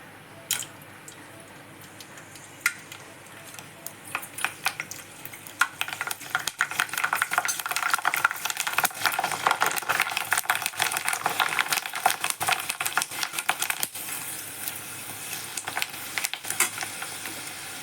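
Sun-dried white wheat kurdai crisps fry in hot oil. A light crackle builds into a loud, busy, bubbling sizzle that holds steady for the rest of the clip without any speech.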